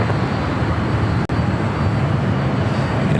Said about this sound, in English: United Dreamliner heading to London Heathrow, flight 231, making that left-hand turn onto taxiway Bravo